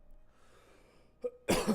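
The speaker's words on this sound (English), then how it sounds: "Just coughing because I'm talking so much" A single sharp cough bursts out close up after a quiet moment, with a smaller throaty catch just before it.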